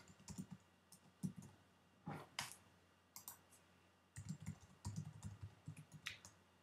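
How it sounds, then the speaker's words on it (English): Computer keyboard typing in short, clicky clusters of keystrokes separated by brief gaps, close-up and soft, with no voices. "I swear I'm typing in my stuff right."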